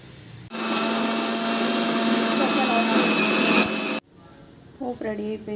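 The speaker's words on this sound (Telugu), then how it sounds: "ఇది మిక్సీ పట్టేస్తాను ఇప్పుడు." A kitchen mixer grinder whirs loudly for about three and a half seconds while grinding chutney, then cuts off abruptly, followed by quieter background sounds and a brief voice.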